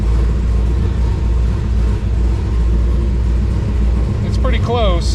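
A Camaro SS engine runs steadily under a loud, continuous low rumble from inside the car while it is being driven. A voice speaks briefly near the end.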